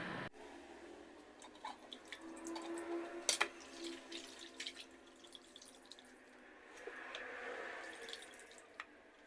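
Water runs and drips while fresh anchovies are rinsed for kilawing, with soft splashes, trickles and a few sharp clinks against a sink, fairly quiet and close with no talking.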